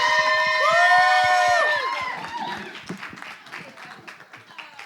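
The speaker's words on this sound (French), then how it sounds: "On continue de les applaudir." A festival game-show crowd applauds and cheers contestants after a physically demanding round. Sustained tones and voices give way to a scattered burst of clapping and shouts under a host's talk.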